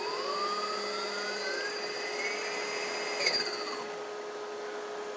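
Motor-driven inverter generator running at maximum RPM, a steady high whine with tonal harmonics that drift upward in pitch, plus a brief rattling burst near the end, no talk.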